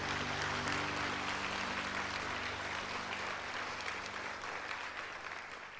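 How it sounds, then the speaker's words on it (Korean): A church congregation applauds a pair of newly received members during a service, a soft, continuous wash of many hands clapping that gradually thins toward the end, heard at some distance with faint hum underneath. "두 분에게 큰 박수 한번 부탁드립니다"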